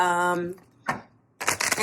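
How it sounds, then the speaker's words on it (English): Tarot cards are shuffled in short, crisp papery bursts, one quick riffle and then a longer flurry of flicks, after a brief bit of voice at the start. "That is what you hear me shuffling."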